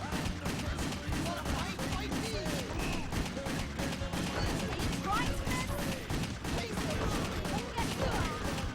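Steady video game gunfire, a continuous run of shots during a speedrun, heard at moderate level beneath a voice talking over it.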